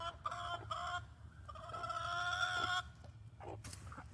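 Hens cluck and murmur close by in short, repeated tonal bursts, with one longer drawn-out call in the middle, over a low background rumble.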